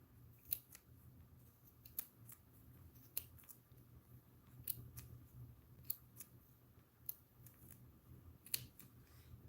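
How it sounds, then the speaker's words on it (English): Small scissors snip through crochet yarn in a series of faint, sharp, isolated clicks spaced a second or two apart over quiet background hiss. "I'm just going to snip the yarn"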